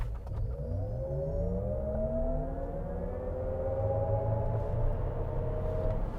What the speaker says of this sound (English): Let's see if we still get a nice launch in VMAX mode.